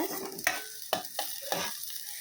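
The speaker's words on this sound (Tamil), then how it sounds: "இப்போ இதை நல்லா வதக்கணும்." Vegetables stirred in a hot pan, a spoon or spatula scraping and clinking in several distinct strokes over a soft sizzle, close and moderately quiet.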